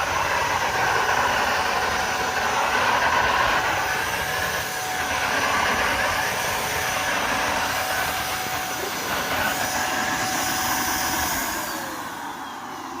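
A Shark Duoclean vacuum cleaner runs steadily on its own, giving a continuous loud whirring roar with a thin whine that holds throughout, with no speech over it.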